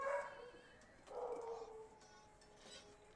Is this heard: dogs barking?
yes